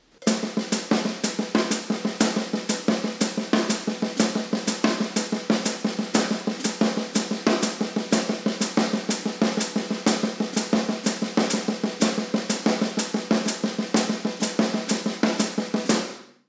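A drum kit plays a paradiddle with the left foot on the hi-hat, a steady, even stream of strokes at a quick tempo, with a repeating pattern that continues unbroken throughout.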